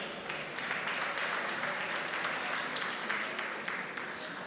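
Steady applause from a crowd at a school governing body meeting, continuous and even, heard from a moderate distance with no voices over it.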